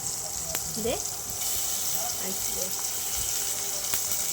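Ginger paste frying in a pan for a fish curry, a steady soft sizzle running throughout with faint clinks and a brief voice under it.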